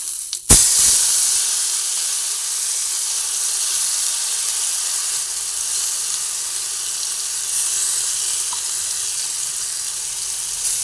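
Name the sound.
spice paste sizzling as it is poured into hot oil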